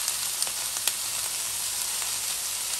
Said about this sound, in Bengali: তেলের ভিতরে একটা শুকনো লঙ্কা দেবো, এখানে দুটো কাঁচা লঙ্কা দেবো, গোটা কাঁচা লঙ্কা দিয়ে দিচ্ছি।